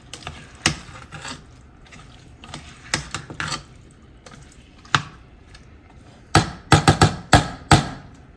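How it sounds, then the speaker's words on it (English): Gavar beans tossed with spices, tomatoes and onions, stirred with a spoon in a pan: sharp scraping and clinking strokes at irregular intervals, clustering into a quick run of loud hits near the end. "Stir them in well so that they all get coated with the spices and the tomatoes and onions."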